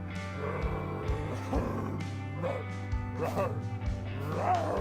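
Dog-like growls and yips from the Randal's Monday video game, a few short vocal bursts layered over steady background music.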